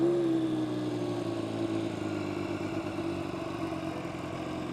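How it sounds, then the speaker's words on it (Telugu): A Triumph Street Triple RS motorcycle engine idling after startup, a steady close-range rumble with a constant low hum and no revving, heard alone without voices. "Okay, first Triumph street triple bike on."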